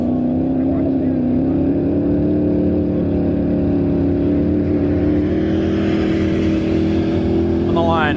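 A land speed race car runs down the course at Bonneville Salt Flats, its loud sustained engine roar climbing through the gears as it pulls away, a steady droning blast that holds for the whole stretch, with an announcer talking over it.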